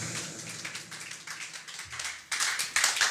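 A church congregation claps to acclaim the Lord Jesus Christ, with irregular overlapping hand claps that start soft and swell into louder, denser bursts near the end.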